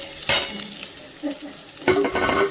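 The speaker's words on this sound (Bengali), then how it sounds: "এটা মশলার সাথে একটু সামান্য একটু কষে নিই।" Boiled potatoes stirred in a pan with spices for a vegetable kofta curry: faint sizzling runs underneath while the spoon scrapes and clinks against the pan in two louder strokes, one early and one near the end.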